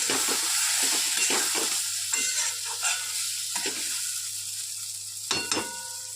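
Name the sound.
stirring and mixing egg with taro stolon curry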